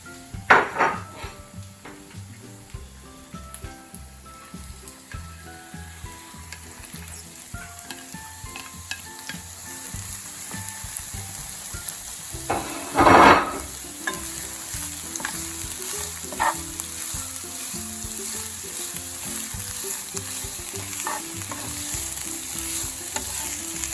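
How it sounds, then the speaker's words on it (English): Onion, garlic and beet tops fry in oil in a skillet, sizzling steadily throughout, with utensil scrapes and clinks against the pan and a brief louder clatter partway through. "we are going to throw everything into the skillet. So we're gonna put our onion and garlic in, and then I'm gonna grab the beet tops"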